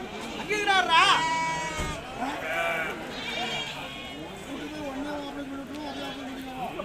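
Goats bleat repeatedly at a busy Saturday goat market in Konganapuram, Salem district, their wavering, close and distant cries rising over a steady hubbub of crowd chatter and someone speaking.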